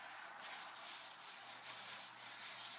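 A 1/4 inch wooden dowel coated in mineral oil pushed straight down through packed rocket fuel for a firework, giving a steady close scraping, rubbing grind with a few soft pulses, no voices.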